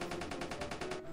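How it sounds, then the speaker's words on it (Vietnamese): Machine gun firing in Minecraft, a rapid run of about ten evenly spaced shots in about one second, dense and steady, with no talking. "Bắn súng liên thành coi."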